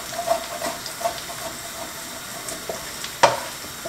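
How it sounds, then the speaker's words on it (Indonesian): Spice paste stir-fries in a pan during home cooking, a soft continuous sizzle broken by occasional scrapes and one sharper clatter near the end, with no talking. "baru nanti tumis bumbu ya."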